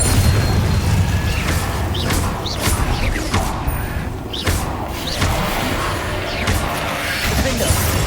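Confringo explosion spells go off in Hogwarts Legacy, a series of booming blasts and crashing impacts amid whooshes and dense game combat noise.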